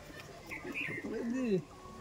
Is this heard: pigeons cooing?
yes